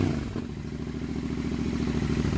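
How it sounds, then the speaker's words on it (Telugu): A Royal Enfield GT650 with a Red Rooster aftermarket exhaust gives a loud, close, sustained rev, its deep throbbing note held steady with a rapid pulsing rumble throughout. "ఆర్పిఎం ఎక్కిస్తే మనకు సౌండ్ అనేది కొద్దిగా ఎక్కువ వస్తుంది"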